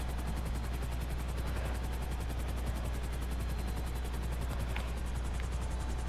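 A loud, steady Grand Theft Auto V helicopter rotor thumps rapidly and continuously, close up, with a constant low engine drone underneath.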